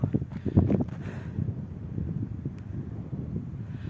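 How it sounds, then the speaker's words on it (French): Outdoor wind buffets a microphone, a steady low rumble with gusty swells throughout, loudest near the start, with no talking. "on a encore une fois beaucoup de chance puisque nous sommes accompagnés du vent"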